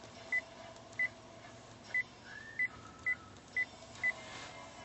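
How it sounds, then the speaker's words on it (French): Seven evenly spaced keypad dialing beeps from the Bluetooth phone keypad on the GPS screen of a 2013 Kia Rio 1.2, short clear tones over a low cabin hum with no talking. "Donc ici nous avons le pavé numérique, bon, pour composer."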